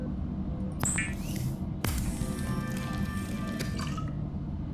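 In the Subnautica video game, filtered water made from a bladderfish gives short liquid drips and squishy splashes, along with a few bright interface clicks, over a low underwater ambience.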